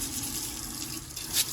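Water runs steadily from a bathroom faucet as it rinses soap down the sink drain, a continuous close splashing flow with no talk over it.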